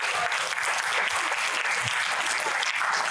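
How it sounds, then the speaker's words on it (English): Wedding guests applaud at the reception, a dense, steady round of clapping filling the whole stretch with no voices over it. "let's give a round of applause for our God in heaven"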